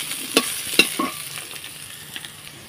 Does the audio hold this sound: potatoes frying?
yes